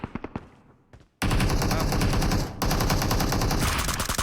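Automatic gunfire from the mobile battle royale game PUBG Mobile: a few sharp separate shots, then a loud, sustained burst that pauses briefly and resumes, close and dominant with no talk.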